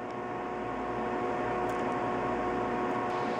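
A microwave oven runs with a steady, even hum and a faint tonal whine, unchanging and fairly quiet for the whole stretch.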